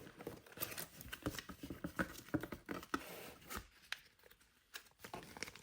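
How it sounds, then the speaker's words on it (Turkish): Rustling, tearing and crinkling of cardboard and paper as the box of a Daiwa Exceler LT 2000 fishing reel is opened up close, with irregular scrapes and soft knocks, no voices. "Şimdi kutumuzu açalım arkadaşlar. Şöyle açıyorum."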